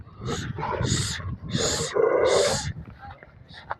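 A dog barks in a few loud, separate bursts close by, with people talking around and between the barks.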